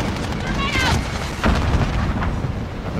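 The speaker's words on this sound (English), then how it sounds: "I got nothing with my nade." A grenade bursts in a Call of Duty match with a heavy, rumbling boom midway, set amid ongoing gunfire and battle noise, with a voice briefly audible just before.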